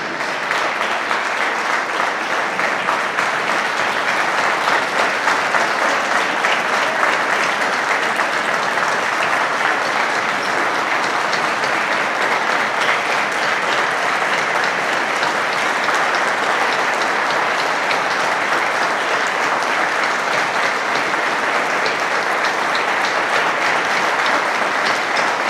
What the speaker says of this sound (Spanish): el aplauso es para ellos